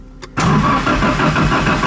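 An SR20DET-swapped Datsun 510 cranks and catches after a brief quiet moment, then settles into a loud, steady idle close by with a rough, throbbing engine note.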